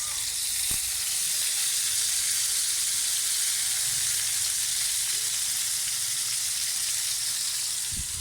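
Leftover corned beef frying in a pan, a constant bright sizzle and hiss that holds steady throughout, close up, with a couple of faint knocks and no talking.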